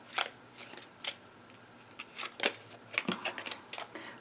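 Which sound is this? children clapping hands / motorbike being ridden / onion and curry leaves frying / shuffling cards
shuffling cards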